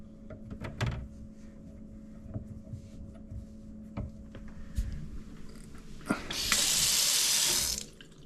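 Kitchen faucet turned on, water gushing steadily into a sink for about a second before shutting off, after some quiet clatter and knocks.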